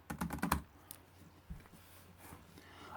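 Typing on an old computer's keyboard: a quick burst of close, clicky keystrokes at the start, then a few scattered single key presses trailing off into quiet.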